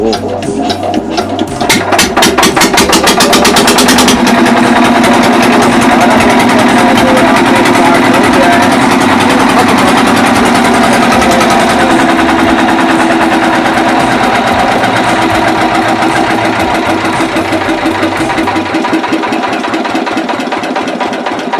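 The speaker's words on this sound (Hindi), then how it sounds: "इस इंजन को हम स्टार्ट करेंगे। तो मैं आप लोगों को स्टार्ट करके एक बार दिखा देता हूँ।" A small engine starts and then runs at a fast, steady idle, loud and close, with a buzzy rattling tone that holds for about twenty seconds before the note shifts near the end.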